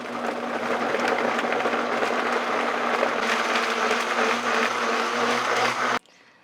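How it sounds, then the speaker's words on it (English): Blender whirring loudly as it purées chili peppers and a garlic clove into hot sauce, a continuous motor drone with a steady hum, cutting off abruptly near the end. "Definitely want to let your blender settle before you take the lid off."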